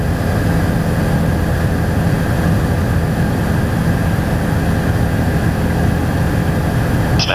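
A Bell 407GXi helicopter's turbine engine increases power in flight, a loud, steady roar with a constant low rumble from inside the cabin and no talking.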